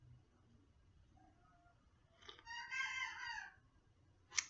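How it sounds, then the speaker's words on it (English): A rooster crows once at a distance, a faint, drawn-out call lasting about a second and a half over a quiet background, followed by a brief sharp sound. "Megan's rooster's crowing."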